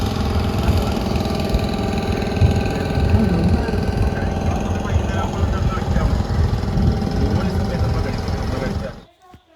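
A small boat motor drones steadily and close, a low rumbling hum with faint voices underneath, cutting off abruptly at the end.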